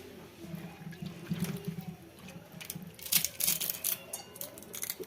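Soaked kurdai are squeezed and crushed by hand in a little water, giving close, uneven squelching and splashing that grows busier and wetter toward the end.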